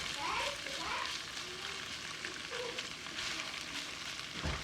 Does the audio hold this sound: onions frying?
yes